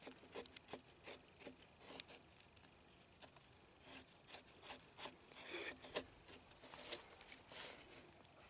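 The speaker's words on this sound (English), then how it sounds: "This knife is too cool for making fine shavings." A cheap survival knife with a candy grind shaves fine curls from wood, making repeated short rasping strokes close up, quiet and rhythmic with brief pauses between passes.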